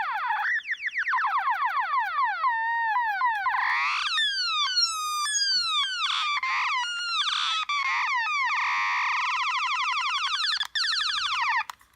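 Korg Monotron analog synthesizer with its pitch swept up and down, producing loud, continuous warbling and chirping glides that rise and fall rapidly in a string of zaps with no voices.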